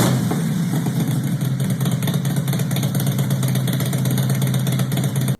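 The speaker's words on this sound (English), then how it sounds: "it really didn't sound too bad on the Evo engine" A Harley-Davidson Evo V-twin motorcycle engine fitted with 4-valve heads runs steadily nearby with a deep, throaty, loping idle, loud and alone, cutting off abruptly at the end.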